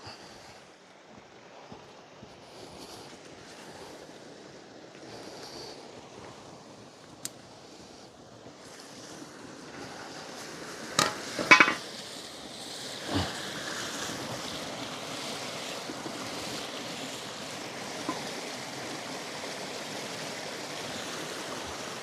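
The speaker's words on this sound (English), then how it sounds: "The wind is blowing this way. It's so gentle." Gentle wind blows outdoors in the Brecon Beacons, a soft steady rush with a few brief knocks and clicks partway through, with no talking.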